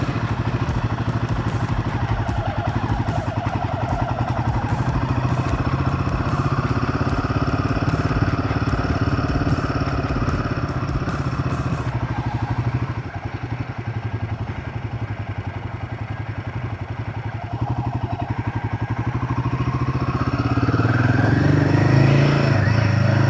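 Royal Enfield Himalayan 450 motorcycle riding on a training course, its mid-pitched engine running loud and steady, dropping as it slows to brake and turn and then rising again, with wind noise throughout.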